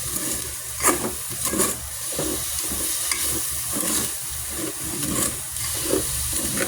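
Fish sauce sizzles loudly in a hot pan for a Filipino sautéed bottle gourd dish, a close continuous hiss broken by rhythmic stirring scrapes, with no talking.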